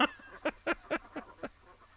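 Ducks on a farm in a farming video game let out a quick run of about six evenly spaced, fairly soft quacks, one after another, fading near the end with no speech.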